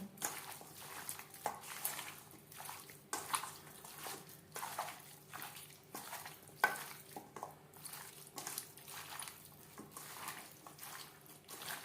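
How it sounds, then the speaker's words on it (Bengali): Raw chicken being worked together with spices and mustard oil by hand in a bowl: repeated soft, wet squelching and slapping strokes in an irregular rhythm, close and fairly quiet, with light clinks of the bowl. "সমস্ত উপকরণ দিয়ে চিকেন বেশ ভালো করে মেখে নেব"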